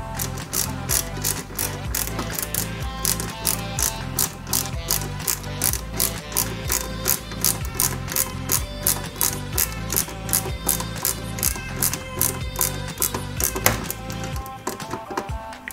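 A small screw being driven into a Porsche 917KH scale model produces a rhythmic ratcheting click, repeated evenly for about fifteen seconds, close and crisp with no talking.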